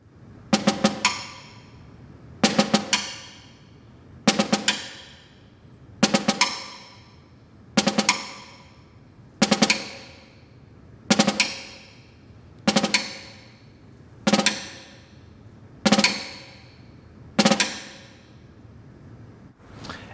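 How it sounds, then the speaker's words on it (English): Snare drum drags played with the main stroke on the rim: eleven evenly spaced crisp grace-note-plus-accent figures repeat at a slow steady pace, close and clear with a little ring after each. "And so I would then put the primary note on the rim"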